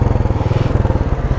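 Kawasaki Z900 superbike engine at speed on the highway, a loud, close, rapid pulsing rumble that stays steady throughout.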